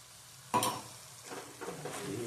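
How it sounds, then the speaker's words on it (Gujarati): Sambar masala being stirred into a sizzling mixture in a pan, with a sudden scraping stir followed by steady frying sizzle and a few softer stirring scrapes, close and moderately loud, no talk. "એને આપણે મિક્સ કરવાનો છે સાંભાર મસાલાને."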